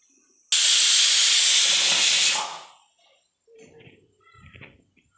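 A pressure cooker whistle lets out one loud, sustained burst of hissing steam that lasts about two seconds and then fades, followed by faint kitchen sounds. The cooker holds avarebele pongal.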